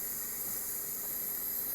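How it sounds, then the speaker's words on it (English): Steady, even steam hiss venting from a Nesco digital pressure canner during home canning, continuous and unbroken at moderate level with no voices. "I do have steam coming out since I'm canning right now"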